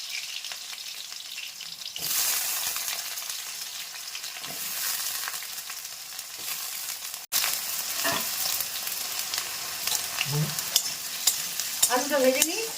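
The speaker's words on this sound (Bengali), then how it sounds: "দিয়ে আলুগুলো একটু ভেজে নিই" Potatoes frying in hot oil make a loud, dense, continuous sizzle that jumps up after a quieter start, with occasional stirring knocks and a brief dropout midway, close up, no talking.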